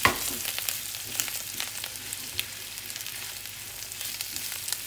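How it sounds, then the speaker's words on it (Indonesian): Tofu and onions frying in a pan, a steady close sizzle with light crackling and occasional soft stirring scrapes, no talking. "Oke, terus sekarang kita aduk."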